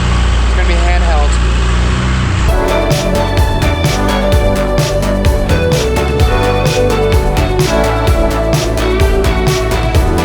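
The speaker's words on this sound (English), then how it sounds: "Seem to be having a little bit of engine trouble." A tour boat engine off Koh Phi Phi, Thailand, having trouble, runs loud and close with a rough, pulsing chug and steady mechanical clatter, while people talk over it.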